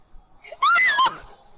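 A Genshin Impact character lets out a short, loud, high-pitched scream, rising and wavering for about half a second, then cutting off sharply into quiet.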